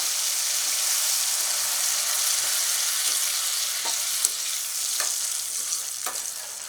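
Tamarind extract sizzles and bubbles in a hot pan as a spoon stirs it, producing a steady bright frying hiss punctuated by several short scraping strokes, close up with no voices.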